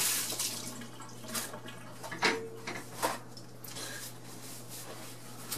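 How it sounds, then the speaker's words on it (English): Fingers rinsed under a running kitchen tap after handling raw cod, a steady wash of water with a few louder splashes and drips as the hands move, close and fairly quiet. "Wash the fishy fingers off."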